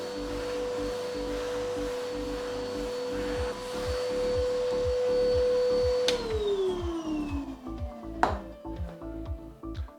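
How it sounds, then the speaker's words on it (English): A vacuum cleaner hoovers dust off a microcement floor with a steady whining hum and rattling debris, then the motor cuts off and winds down, followed by a brief clatter. "As before, just a quick hoover off."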